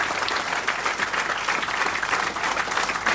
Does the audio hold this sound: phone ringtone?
no